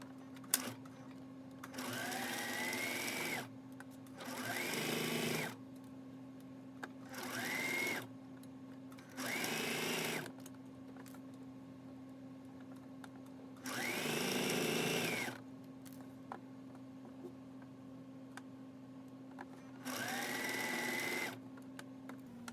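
A sewing machine stitches along the fabric edge of a sleep bonnet in six separate bursts of steady whirring, each lasting one to two seconds with quiet pauses between them and no talking.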